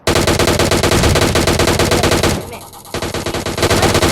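PUBG Mobile automatic gunfire on the Livik map, loud and close, fires in rapid bursts of evenly spaced shots. It pauses briefly, then resumes with another sustained burst.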